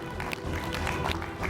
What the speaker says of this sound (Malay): Tepukan huruf untuk Kristina.